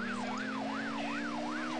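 A police car siren from the video game Need for Speed wails in a fast, regular rising-and-falling sweep, steady and loud throughout, over a constant engine drone.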